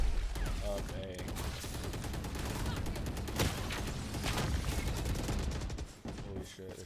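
Dense, sustained bursts of automatic gunfire from a Valorant match crackle nearly nonstop at close range and high volume, with rapid overlapping shots.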